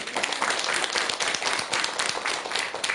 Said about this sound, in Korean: 좋은 질문 해주신 보살님께 큰 박수 한번 주세요